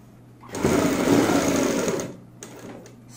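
A sewing machine stitches alongside the elastic waistband of pleated palazzo pants, giving one loud, steady whirring run of about a second and a half, then stopping, followed by a brief quieter burst.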